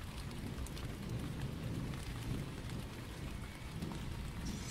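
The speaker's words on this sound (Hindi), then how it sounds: "हल्की फुल्की बारिश शुरू हो गई थी और बिजली भी चमक रही थी" Light rain falls steadily with a soft, continuous hiss and low rumbling like distant thunder, moderately faint and without any voices.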